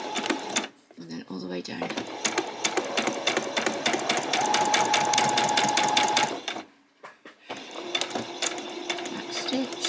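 A sewing machine back stitches on a skirt seam, its rapid mechanical chatter running loud and close for several seconds, then stopping and starting again as a person talks over it.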